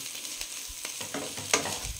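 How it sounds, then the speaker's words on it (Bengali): Macaroni is stirred and mixed in a pan with onion and garlic over a medium flame, giving a steady soft sizzle with several scraping strokes and one sharper clink near the end. "একটু নাড়াচাড়া করে দিয়ে মিশিয়ে দেবো যে সসটা বানিয়ে রেখেছি।"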